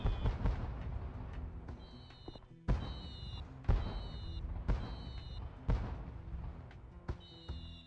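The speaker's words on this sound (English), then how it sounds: "That firework sound effect." Repeated firework bursts in the PS2 game Mission: Impossible – Operation Surma, five or six sharp booming cracks at roughly one-second intervals, each followed by a crackling, whistling tail over a rumbling game background.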